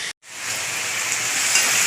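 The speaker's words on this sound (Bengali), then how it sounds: "আলু ভাজাটা বসিয়ে দিয়েছি" Potato pieces fry in a pan with a steady, close hiss and sizzle that begins after a brief silent gap and continues evenly.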